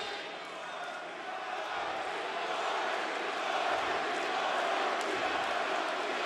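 A wrestling arena crowd cheers for Darby Allin during an event: a steady, dense roar of many voices swelling slightly and holding throughout, with no break.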